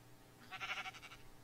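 A single Minecraft sheep bleats once, a short wavering cry, quiet and alone against a low background hum.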